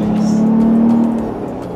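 Ford Bronco engine revving during a test drive, a steady droning hum rising and holding for over a second before easing off, close and fairly loud inside the cabin with no voices.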